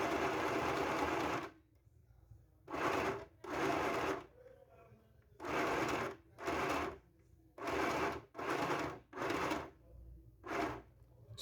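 A sewing machine stitches fabric for a bow, its motor whirring in a series of short, close bursts separated by brief pauses, with a faint background hum between runs.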